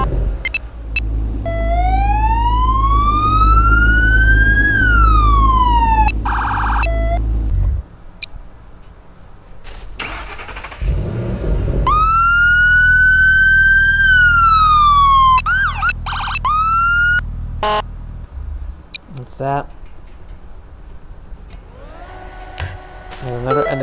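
Police car siren from the Photon mod in Garry's Mod, loud and close, cycling through rising and falling wails with short pauses and a switch between tones, over a low engine rumble.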